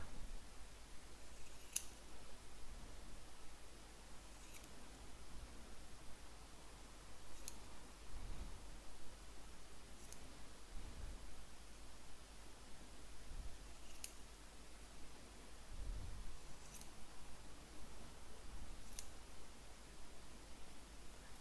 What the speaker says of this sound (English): put your scissors in the middle and we're trying to cut all the loops